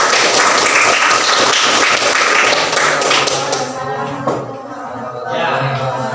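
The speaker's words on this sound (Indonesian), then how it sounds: "Kita kasih aplaus dulu buat kelompok 1." Classroom applause for a student group, a loud dense patter of clapping hands that fills the first few seconds and then thins out, with a voice speaking as it fades.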